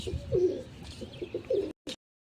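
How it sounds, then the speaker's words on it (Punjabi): Nearby pigeons coo in soft, throaty, repeated calls while feeding on grain, followed by a brief pause and a short click. "ਕਬੂਤਰ ਦਾਣੇ ਖਾਣ ਲੋ ਜੀ ਆ ਗਏ ਸਾਰੇ ਬਾਹਰ"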